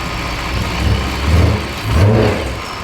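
Supercharged BMW E92 M3 V8 revving in short blips, three swelling pulses of engine roar with a faint supercharger whine above, close by and with no talk.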